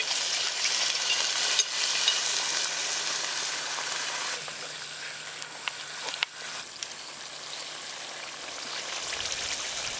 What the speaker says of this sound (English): I think cooking on the Dutch oven really adds some flavor.